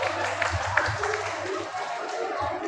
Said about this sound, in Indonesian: Tepuk tangan buat Bapak Ibu semuanya